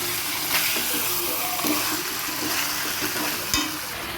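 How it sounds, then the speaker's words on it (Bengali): Meat frying with spices in a pan for a curry, a steady close sizzle with stirring scrapes and clinks throughout and no talking. "মাংসটা কষিয়ে নেব মশলার সাথে"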